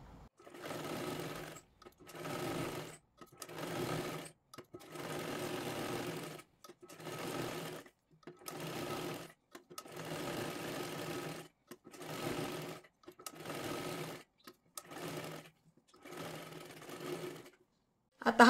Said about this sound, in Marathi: आता मी शिलाई करून घेणार आहे